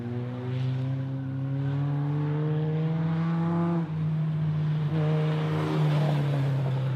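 A mini NASCAR race car on a circle track runs under heavy throttle. The engine drone climbs steadily in pitch, drops briefly as the throttle lifts, then pulls up again, loud and continuous with wind and track noise behind it.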